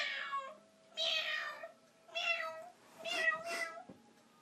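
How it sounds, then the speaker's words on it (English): A cat meows four or five times in short, close, fairly quiet calls with gaps between them, in an otherwise quiet room. "Meow."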